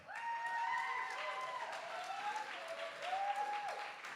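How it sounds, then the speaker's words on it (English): A crowd at a poetry slam preliminary round at a festival keeps clapping for about four seconds, dense and moderately loud, while an announcer's amplified voice talks over it. "And keep on clapping for Poet B."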